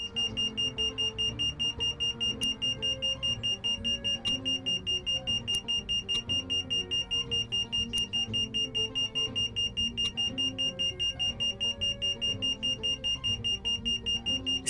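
Repeated electronic security alarm beeping inside a video game set in an art gallery, a steady loud tone with regular sharp pulses running throughout.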